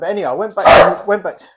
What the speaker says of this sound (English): Apologies, that was the dog again.